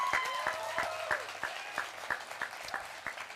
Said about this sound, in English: Graduates, please give a round of applause to your parents,